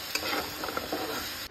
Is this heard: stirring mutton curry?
yes